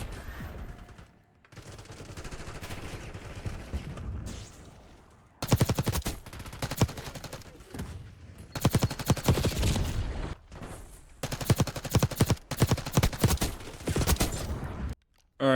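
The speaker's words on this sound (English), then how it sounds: "I'm just shooting in the firing range real quick before starting up the next game." Bursts of rapid video game gunfire on a firing range, loud and close, with several long automatic volleys separated by short pauses and no talking.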